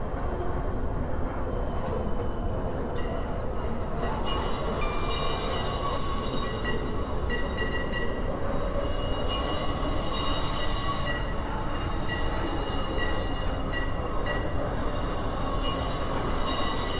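TTC Line 3 subway train running in a Roblox game, a steady loud rumble of rails and wheels with faint squeal, continuous throughout between Ellesmere stops.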